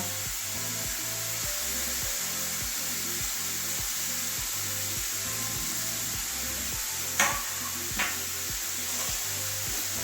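Grated carrots frying in ghee in a pan, a continuous close sizzle under rhythmic scraping stirs that repeat about every half second, with two sharp utensil knocks near the end.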